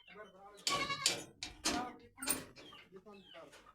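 Young goat kids bleat in a farm goat shed, a series of four or five wavering, high cries that come close together and sound fairly near, with quieter background noise between them.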